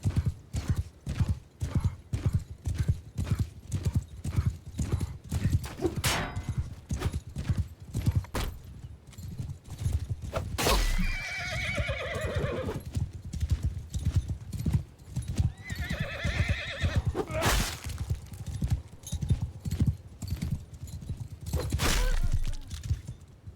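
Cavalry horse archers in a Three Kingdoms strategy video game gallop in a dense, continuous clatter of hooves, with two drawn-out horse whinnies rising above the pounding.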